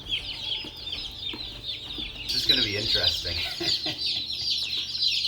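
Young chicks and chickens cluck and peep continuously at close range, a dense chirping chorus with occasional louder calls, while a person speaks over them.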